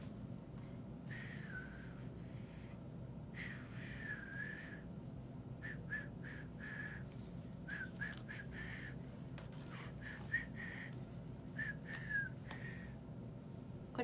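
A faint melody of a song is whistled in short breathy phrases over a steady low background hum, with no talking.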